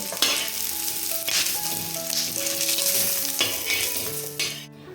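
Onion, ginger, garlic and green chili fry in a pan for a Konkan-style walache birde, giving a continuous close sizzle with stirring, while melodic background music plays underneath.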